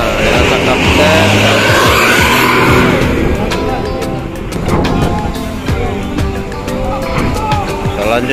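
Vehicles rolling off the ferry KMP Jakarta at Merak port, a loud, steady rumble of engines and tyres with scattered clunks as they cross the ramp, with a voice speaking over the traffic noise.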